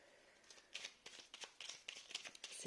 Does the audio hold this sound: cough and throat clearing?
no